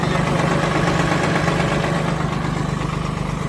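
A tractor engine idles steadily and close by, a continuous low mechanical rumble with faint vibration that eases slightly toward the end, with no talk over it.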